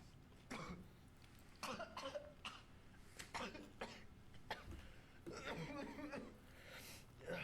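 Repeated harsh coughs, some in quick clusters, break out over faint background noise, with a few throaty chuckles mixed in.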